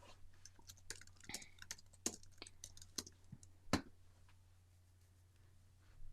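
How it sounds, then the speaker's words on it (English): Quiet, close typing on a computer keyboard, with a few irregular bursts of soft key clicks and one sharper tap, then a faint lull over a low hum. "I just typed in Tanara app review"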